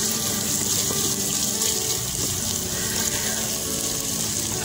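Onions browning in a pot over a hot wood fire give off a steady, dense sizzle and hiss, close and constant with no pauses.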